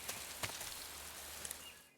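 Steady rainfall in the Metal Gear Solid 3 jungle swamp, a continuous soft hiss with a few scattered louder drops, fairly close and alone before cutting off abruptly at the end.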